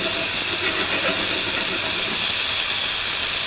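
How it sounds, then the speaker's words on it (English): Meat searing in a hot pan, a loud, steady, close sizzle and hiss that runs unbroken throughout with no voices. "That's how you sear your meat"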